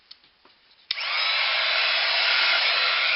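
Heat tool switching on to heat-set embossing on a handmade thank-you card, a click followed by a steady, loud broadband blowing hiss that continues unbroken to the end.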